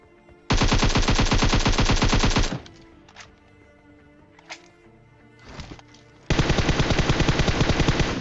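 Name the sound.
gunfire in PUBG video game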